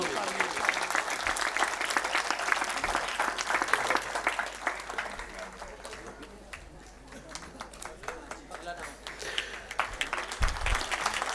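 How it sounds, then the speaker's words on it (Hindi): Enthusiastic congregation applause during a thanksgiving first holy mass in a church, loud and sustained with many hands clapping, dipping briefly in the middle before swelling again, with some voices mixed in. "आप सबकी भरपूर तालियों में।"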